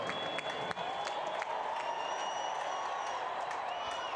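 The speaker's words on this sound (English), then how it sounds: "I mean, really cheer him on." A crowd at a football kick applauds and cheers in a steady, dense wash of clapping, with whistles and voices rising over it throughout.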